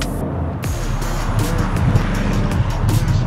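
Bugatti Chiron accelerating hard from 100 km/h, a loud, dense engine roar with strong low rumble that builds steadily for a few seconds, with no talking over it.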